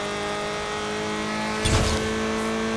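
Car in Forza Horizon 4 holding a steady engine drone, then a sharp burst of braking noise and throttle as it turns in, followed by continued engine hum; no speech.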